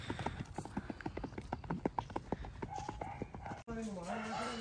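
A mare's hooves clip-clop in a brisk, irregular rhythm as she is ridden back home, close and clear, followed by a brief break and a steadier tonal sound near the end.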